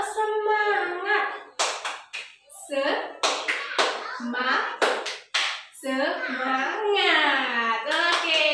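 A class of primary school children does a rhythmic clapping cheer, bursts of claps in a patterned beat mixed with an adult and children chanting and talking over it.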